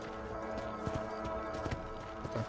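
Horse hooves clip-clopping in the video game Red Dead Redemption, a steady trotting rhythm of soft thuds over a continuous game soundtrack and ambient hum, with no voices.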